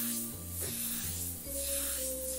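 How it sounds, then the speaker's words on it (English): An airbrush spraying paint lines gives soft hissing bursts that swell and fade in about three passes, heard over steady tonal background music. "And you just gain control of the airbrush, start varying the thickness of your line like this"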